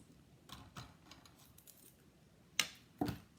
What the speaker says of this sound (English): I'm not measuring, just cutting thread.